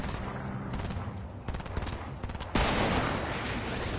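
Gunfire fills a Fortnite 50 vs 50 video game match: bursts of rapid automatic shots and scattered single cracks that swell into a dense, loud, continuous barrage, like a battle all around.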